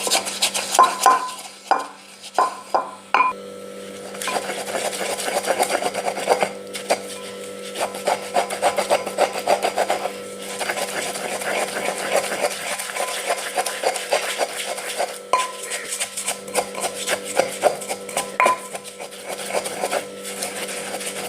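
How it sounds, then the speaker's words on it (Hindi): Poppy seeds are ground in a clay pot with a steady rasping, rubbing scrape that repeats for a long stretch, close and fairly loud, with a few sharper knocks near the start and no talking. "ये अब इसमें मिट्टी के बर्तन में डाल के पीसूँगी।"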